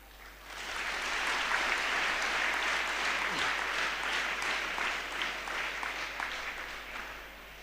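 Loud, sustained applause from a large crowd of children at a gathering at Siddaganga Ashram, dense hand-clapping that swells in after the first half second and holds steady to the end.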